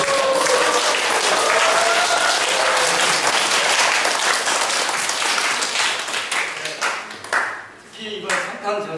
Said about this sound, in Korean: 축하의 박수를 한번 보내주십시오